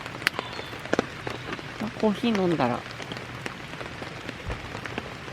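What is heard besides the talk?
steady rain falling at a campsite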